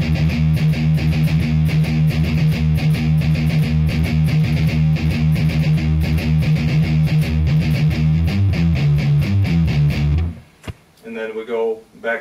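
Heavily distorted metal electric guitar riff from a song, chugging an eighth-and-two-sixteenths pattern, loud and driving for about ten seconds before cutting off into brief quieter noise.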